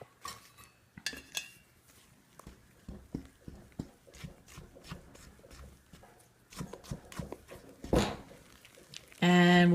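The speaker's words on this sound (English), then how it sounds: "we'll get this stirred in real well" Blueberry banana bread batter is stirred in a bowl, a spoon tapping and scraping in uneven clicks against the sides, ending with a brief louder clatter.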